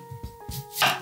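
Knife chopping an onion on a cutting board: three or four quick close cuts with board knocks, ending in a louder scraping chop, over a faint steady hum.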